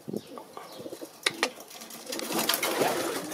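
Turtle doves kept in pairs in breeding hutches coo in short, rounded calls, with a brief flurry of wing flapping and close rustling.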